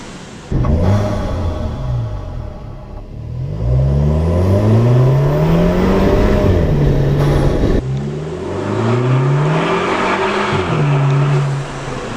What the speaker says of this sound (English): Oh, that blow off sounds so sick.